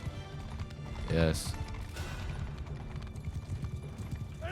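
Horse hooves in Mount and Blade 2 Bannerlord: a steady clip-clop of galloping with a brief clash in the middle, under a busy battle din, and a voice speaks one short word.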